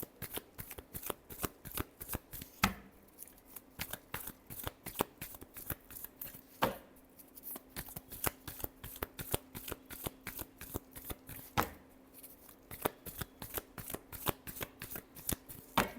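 Tarot cards are shuffled close by in a continuous rapid riffling flutter, broken by a few sharper bridging snaps, with no talking.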